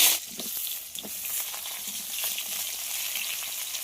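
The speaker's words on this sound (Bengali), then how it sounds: "এবার এই তেলের মধ্যে লবণ হলুদ মাখিয়ে রাখা পটলগুলো দিয়ে দেব ভাজার জন্য" Pointed gourd (potol) rubbed with salt and turmeric sizzles in smoking-hot mustard oil on high heat, a steady, close, loud frying hiss with small crackles and spatters throughout.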